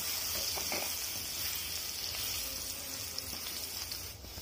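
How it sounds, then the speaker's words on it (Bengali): Potato pieces fry in oil left over from frying fish, making a soft continuous sizzle with a few faint stirring sounds, fairly quiet throughout. "এবার এই মাছ ভাজার তেলেই আমি আলুগুলো ভেজে নেব।"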